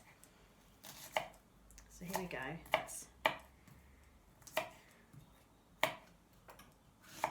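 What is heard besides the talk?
chopping onion with a Japanese knife on chopping board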